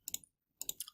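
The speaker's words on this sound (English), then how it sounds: "So I'm going to type that 5 times." Calculator keys being pressed to enter numbers: two short, close bursts of quick plastic clicks, each made of several rapid taps, separated by a brief silence.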